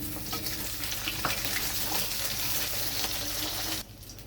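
Raw plantain frying in a kadai for a fish curry, a loud, continuous close sizzle that drops away abruptly near the end, with no talk.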